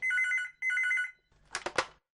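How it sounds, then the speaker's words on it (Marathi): A telephone rings twice in quick bursts, then a brief clattering sound follows, like the handset being picked up. "सुनीता मावशी, फोन वाजतोय."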